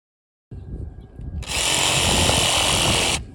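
A reciprocating saw slices through mattress foam for a custom GMC motorhome bed, first a rough idle buzz, then a loud steady high-pitched cutting whine lasting under two seconds before stopping abruptly.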